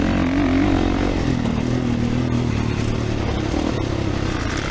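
A 2024 Kawasaki KX450 dirt bike roars continuously while being ridden at Eugene MX Park motocross track, loud and close with steady engine drone and wind rush throughout.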